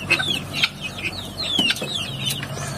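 Native chickens clucking on a small farm, with several birds calling close by in quick, overlapping clucks and short squawks.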